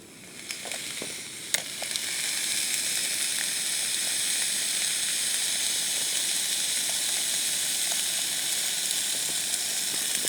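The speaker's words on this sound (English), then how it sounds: "I'll get these sausages back on the go." Sausages fry in melted butter in a pan at a wild campsite, giving a loud, continuous sizzle and hiss with a few sharp spits and crackles early on.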